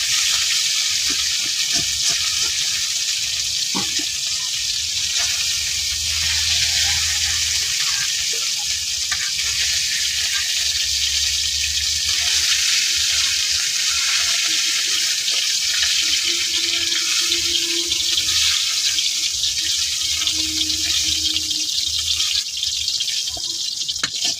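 Fish fries in oil in a pan, giving a steady, dense, close sizzle and crackle throughout. Faint kitchen clatter sits under it, with no talking.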